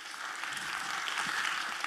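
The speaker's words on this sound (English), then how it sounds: "Give them both a round of applause." Audience applause at a church sacred-music passion recital, a steady wash of many hands clapping at moderate volume throughout, without distinct individual claps.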